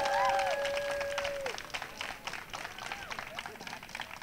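An outdoor crowd at a city hall Pride flag raising claps and cheers, dense applause at first that thins into scattered clapping with whistles and voices mixed in.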